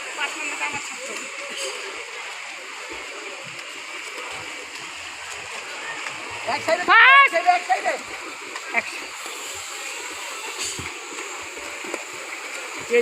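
Children racing in a swimming competition churn the pool, a steady wash of splashing water with voices and poolside noise running underneath.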